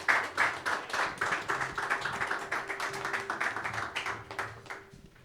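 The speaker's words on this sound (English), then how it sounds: "let's give them a big round of applause" Small audience at a product marketing panel event clapping to welcome panelists, a thin, fairly quiet patter of individual claps in uneven rhythm that fades out after about five seconds.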